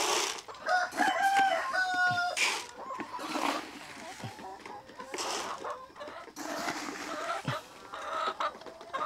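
Rhode Island Red chickens cluck and squawk at feeding time on a small farm in Cebu, with busy overlapping calls close by and people talking among the birds.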